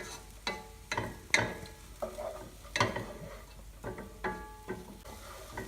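Onions and chipotle fry in a pan under steady stirring, with repeated scraping strokes of a utensil at an uneven rhythm over a low, continuous sizzle heard close up.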